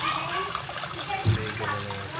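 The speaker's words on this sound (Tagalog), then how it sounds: "Lagyan natin ng water guys." Water pours into a cooking pot for a fish dish of trevally simmered with kamias, a brief close splash and trickle with a low gurgle midway.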